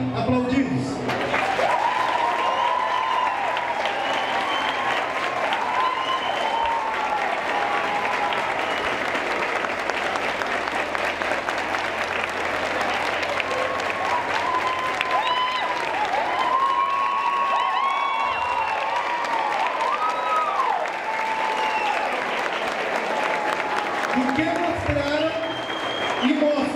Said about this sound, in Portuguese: Gostaria que pudessem todos serem aplaudidos.